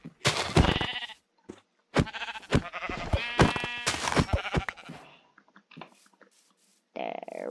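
Minecraft sheep bleats close and loud, several wavering baa calls in a row with short gaps between, followed by a separate brief bleat near the end; no speech.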